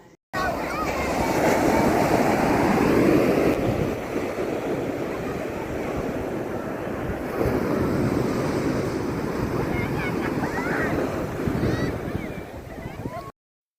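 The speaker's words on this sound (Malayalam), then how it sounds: "നമുക്ക് കടലിൻ്റെ ഒറിജിനൽ സൗണ്ട് ഒന്ന് ആസ്വദിച്ചാലോ?" Sea waves wash steadily onto the beach at Alappuzha, a continuous surging roar with wind buffeting the microphone, heard on their own without talk.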